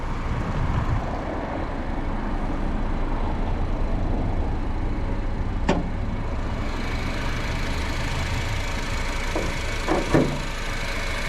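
A 2006 Honda Civic DX engine idles close by with a constant low rumble, broken by a couple of faint clicks near the end, and no voices.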